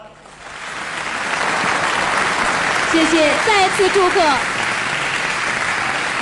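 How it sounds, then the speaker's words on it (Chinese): An audience at the 2008 Jiangsu-Zhejiang-Shanghai young pingtan performers' televised award gala breaks into enthusiastic applause that swells and stays dense and loud. A speaker talks over the clapping, and a brief musical phrase is heard. "我们用热情的掌声祝福他们"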